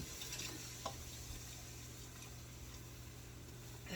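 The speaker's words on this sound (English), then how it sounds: "And stir that." Whole milk being stirred into a flour roux in a pan, a quiet, steady low scraping and gentle bubbling with a faint clink near the start, close but soft, no voices.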